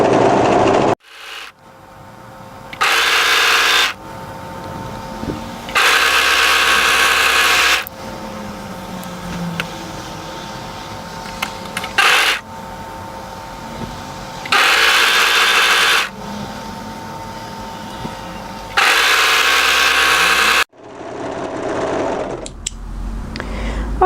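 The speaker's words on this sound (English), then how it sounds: "So we're going to match and sew the side seams." A sewing machine runs in short bursts of a second or two, stopping and starting repeatedly while stitching the side seams of a tie-front dress, loud and close with quiet handling in between.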